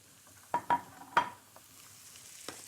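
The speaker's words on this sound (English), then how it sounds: "when it starts sizzling like this, it's perfect" Mushrooms sizzle quietly in a hot pan, with a few sharp stirring clicks and scrapes over a soft, steady frying hiss, and no one speaking.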